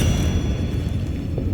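A spell blast in the Hogwarts Legacy video game, a heavy sustained low rumbling boom lasting the whole moment, loud and close, without speech.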